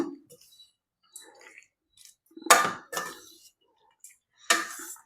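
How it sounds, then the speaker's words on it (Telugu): Rice being added to a pot and stirred in while making chitrannam: sparse clinks and scrapes of a utensil against the pot come in short separate bursts with quiet gaps between them. "రైస్ వేసుకుందాం రైస్ వేసుకొని కలుపుకుందాము"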